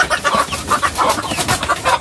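Several chickens, among them birds named Chico, Chiki and Chika, cluck repeatedly in quick bursts close to the recorder, a busy, rhythmic farmyard clucking with no talk.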